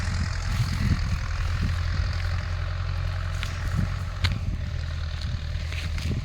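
A tractor plowing a field rumbles in a steady, low engine drone throughout, with occasional faint clicks and rattles over it outdoors.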